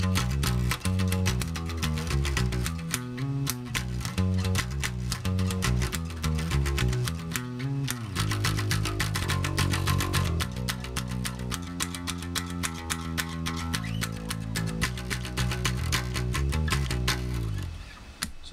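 A rare bass guitar picked with a plectrum, repeating a steady low riff loud and up close for nearly the whole stretch, alone without talk, fading at the end.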